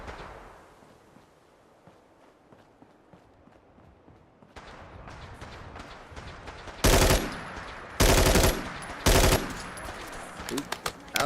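Gunfire in Fallout 4 during a modded wasteland survival run: quiet ambience first, then rising combat noise and three loud bursts of automatic fire, each about half a second, followed by scattered smaller shots.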